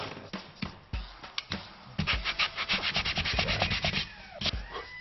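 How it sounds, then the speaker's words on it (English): Trimmed wooden dowels on a wooden frame are sanded back by hand. The rubbing comes close-up in short separate strokes at first, then in a fast, steady run of back-and-forth scratches. "And then what, sand it back?"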